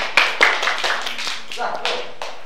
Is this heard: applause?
yes